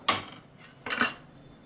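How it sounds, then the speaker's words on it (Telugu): Spoon clinking against a bowl while turmeric and gram flour powder are stirred into a paste: two quick scraping clinks a moment apart, close and fairly quiet. "ఇప్పుడు కలుపుకుందాం పెరిగేసాం కదా పౌడర్ వేసాం కదా కలుపుకుందాం"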